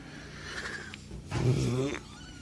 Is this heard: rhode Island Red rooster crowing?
no